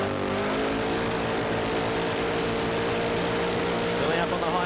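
A drag racing car engine, the Lucas Oil Products Ford Mustang at the Australian Nationals, holds a loud, steady high-RPM drone that rises slightly near the end, with a commentator's voice over it.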